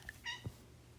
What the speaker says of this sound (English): that was my cat screaming at me